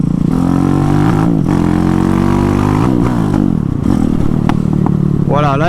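A Honda MSX motorcycle fitted with a Zongshen 212cc engine is pushed to full throttle, revving hard and rising in pitch with a missed gear shift, over a loud, near, rough mechanical roar.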